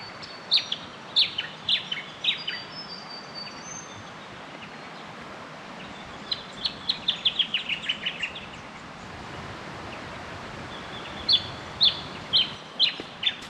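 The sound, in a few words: birds singing outdoors in the high country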